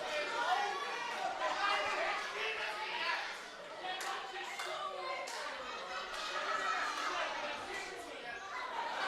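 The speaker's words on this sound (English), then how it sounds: "The crowd here in Morecambe are electrified and super excited for our first matchup of the evening" An excited crowd at a pro wrestling show in Morecambe fills the space with steady, dense chatter and scattered clapping, holding at an even level throughout.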